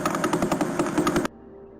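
Recorded signal of a pulsar, a rapidly rotating neutron star, rendered as sound: a fast, steady pulsing buzz like rapid-fire thumping that runs loud for just over a second, then cuts off abruptly into near silence.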